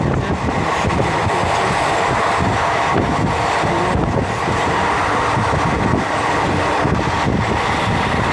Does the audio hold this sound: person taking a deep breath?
no